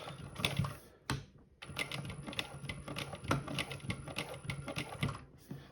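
A JACK H2 industrial sewing machine running in short, rapid stitching bursts, a quiet mechanical clatter with a faint high whine and brief pauses between runs.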